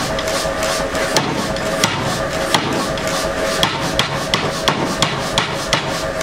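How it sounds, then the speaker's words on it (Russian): A power hammer pounds steadily while a blacksmith forges a candlestick, its loud, evenly spaced blows landing roughly every half second over a continuous ringing workshop drone. "Молот, гаси, сейчас расскажу."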